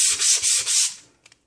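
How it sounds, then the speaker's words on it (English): A sanding block rubs along the edge of papercraft paper in four quick, even scratchy strokes, close and alone, ending with a couple of faint taps. "and you just rub along the edge"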